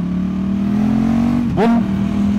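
A KTM 1290 Super Duke R motorcycle holds a steady droning engine note, then briefly blips and revs sharply upward before settling again, close and loud with no talk.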